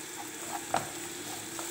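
Two medium onions frying in oil in a pan for one-pot butter chicken give a steady close sizzling hiss, with a single brief scrape of stirring partway through.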